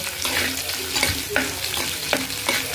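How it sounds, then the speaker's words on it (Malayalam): Fenugreek and green chillies crackle in hot oil as a tempering for a rambutan pickle, a dense close sizzle broken by regular scraping strokes of a stirring spoon. "ഇതെല്ലാം കൂടി ഇട്ട് നന്നായിട്ടൊന്ന് താളിച്ചെടുക്കാം നമുക്ക്"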